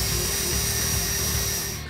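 A power drill bores a pilot hole in the door of a 1966–1977 Ford Bronco during a power window kit install, a continuous whining drone that is close and loud and eases off at the end.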